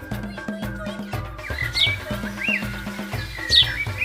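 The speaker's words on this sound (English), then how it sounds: "birds love to sing." Bright, high bird chirps and tweets come in a few short bursts over steady background music in a children's learning program, moderately loud and close.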